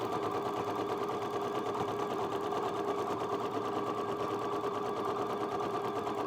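A sewing machine runs continuously while stitching a scarf, a steady, even mechanical hum and rapid needle rattle held at constant loudness throughout.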